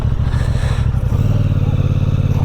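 A Benelli Tornado 550 motorcycle engine runs loud and close, a steady throbbing drone that drops into a lower, smoother hum partway through, with a faint clatter beneath it.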